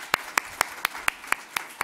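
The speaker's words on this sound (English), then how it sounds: "So another round of applause for our Flash Talk presenters." A single person claps in a slow, even rhythm, eight sharp, distinct claps spaced about a quarter second apart, heard up close. The clapping is for Flash Talk presenters at an early-years media literacy session.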